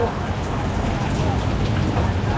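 Steady heavy rain pours in a dense, continuous wash of noise, loud and close, with no pauses.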